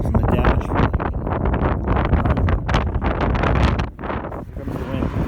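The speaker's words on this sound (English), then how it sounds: "comes the wind." Strong wind gusting into the microphone outdoors at a junk shop, loud continuous buffeting and rumble with rapid bursts, briefly easing near the end.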